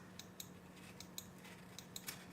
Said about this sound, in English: Sometimes I use a bigger scissors